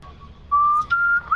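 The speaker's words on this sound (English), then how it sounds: "whose whistling is that?" Someone whistles a sustained, slightly rising tune over voice chat during a modded Lethal Company session, starting faint and then growing clear and steady in several held notes with short breaks.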